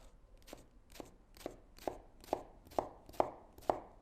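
A knife chops through an onion on a board for tartare, with eight evenly spaced, crisp chops that grow slightly louder, close by and with no talking.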